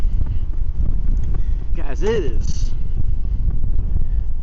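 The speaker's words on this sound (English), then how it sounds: "It is freaking windy." Strong outdoor wind buffets the microphone with a constant low roar and rumble while someone speaks over it during work on a radio-controlled Traxxas vehicle.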